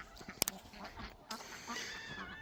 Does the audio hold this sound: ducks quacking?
yes